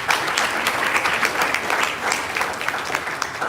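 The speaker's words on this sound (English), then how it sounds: "let me give you a big round of applause to you" Steady, dense applause from an audience at a Model United Nations opening ceremony, many hands clapping together at close range with no voices over it.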